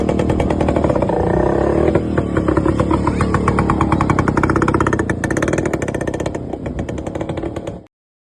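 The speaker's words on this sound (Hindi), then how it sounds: "आज हम इसे केवल स्टार्ट करके नहीं दिखाएंगे बल्कि इसे सरपट दौड़ता हुआ भी" A 55-year-old Rajdoot motorcycle engine runs loud and close with a rapid, steady single-cylinder thump, revving slightly before cutting off abruptly near the end.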